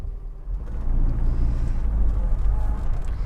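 Austin Metro with an A-Series engine running, a low, steady rumbling drone heard from inside the lightly sound-deadened car, rising slightly and holding a constant throb throughout.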